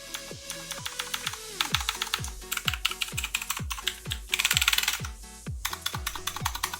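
Rapid clicky typing on a CosmicBytes Firefly tenkeyless mechanical keyboard with Outemu Blue switches, a steady run of sharp, close keystroke clicks with occasional faster bursts, heard alone with no talking.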